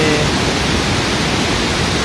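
A fast-flowing mountain river on the Kedarnath trek gives a loud, dense, unbroken roar of rushing water, close and alone, with no voices.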